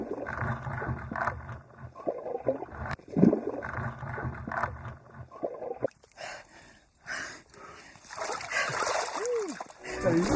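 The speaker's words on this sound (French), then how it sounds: "Sans hésiter, elle plonge dans cette eau glaciale à 4 degrés." Someone plunges into an icy 4-degree lake beside a bubble sauna, with splashing and churning water, gasps, and voices talking over the scene.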